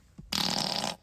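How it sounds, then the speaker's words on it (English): A loud, buzzy fart from a remix blasts for over half a second after a short faint thump, cutting off abruptly into quiet. "I'm farting on it."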